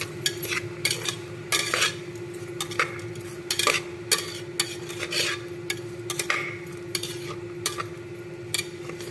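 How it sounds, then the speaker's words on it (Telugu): Green peas curry being stirred and fried in a pan: repeated scraping and clinking of a spoon against metal over a soft continuous sizzle, fairly close, with no talking. "ఇలా అన్ని కలిపి ఫ్రై చేసుకోవాలి"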